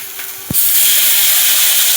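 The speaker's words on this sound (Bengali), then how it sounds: "আন্দাজ মতো হলুদ গুঁড়ো দিয়ে লঙ্কা গুঁড়ো দিয়ে এটা গরম জল দিয়ে" Hot water poured into a hot pan of turmeric and chili powder for chicken curry, bursting into a loud, steady steaming hiss after a brief clink, sustained to the end.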